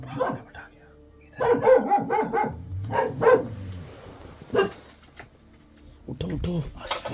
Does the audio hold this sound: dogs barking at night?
yes